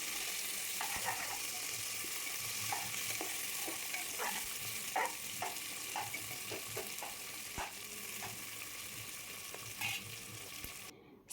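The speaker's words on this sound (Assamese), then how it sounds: "ইয়াতে অকণমান নিমখ হালধি দি গোটেইখিনি ভালকৈ মই এতিয়া অলপমান লৰাই দিম" Goat meat with onion, salt and turmeric is stirred in a kadai on a gas flame, with irregular scraping strokes of the spoon over a constant soft sizzle.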